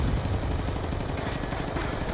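A sustained burst of rapid automatic gunfire from an MSMC submachine gun in a video game, as a whole magazine is emptied. The dense, continuous rattle is loud and close and runs without a break for the full stretch.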